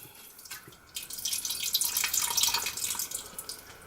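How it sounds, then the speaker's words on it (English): A cup of water is poured into an Instant Pot for a pot roast with beef broth, a close, steady splashing pour that swells after the first second and tapers near the end. "And I'm going to add a cup of water."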